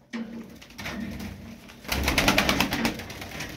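Pigeons cooing in a loft where birds are being sold, soft repeated coos close by, growing busier with flapping and fluttering in the second half, no talking.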